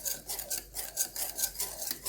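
Caramel mixture with vinegar being stirred in a pot, a spoon scraping the bottom in a steady repeated rhythm of rasping strokes, close and moderately loud, with no talking.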